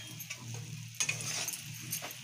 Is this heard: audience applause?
no